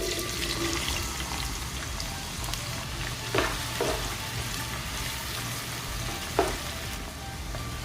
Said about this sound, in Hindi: ऑयल जब गर्म हो जाएगा तो इसमें हम कटी हुई प्याज डाल देंगे